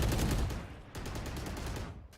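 Sustained bursts of gunfire in a professional Valorant esports match on the Icebox map, dense and loud, with a brief pause near the middle before firing resumes.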